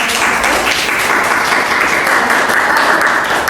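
Audience applause after a group presentation, a dense, steady wash of many hands clapping that stays loud and even for the whole stretch, with no voices over it.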